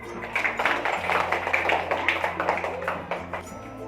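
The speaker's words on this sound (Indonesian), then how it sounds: "Kasih tepuk tangan." Students clap together in a primary school classroom, a dense, steady patter of many small hands that holds at an even level for a few seconds with no talk over it.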